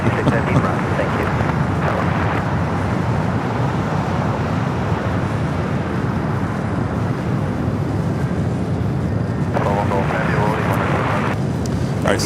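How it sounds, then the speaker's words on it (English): A Swiss Boeing 777-300ER airliner at LAX gives a steady broadband jet roar with wind rumble across the whole stretch, and a voice talks briefly over it. "Swiss Flight 41 heading back to Zurich at 777-300ER"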